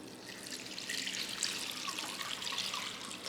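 Pickling liquid pours into a container over pork trotters, a steady close splashing trickle that continues evenly throughout.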